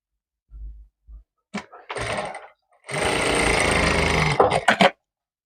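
A sewing machine bastes pleats on a shirt, running in short stuttering bursts and then a longer steady whir of needle strokes, loud and close, ending in a few quick stops.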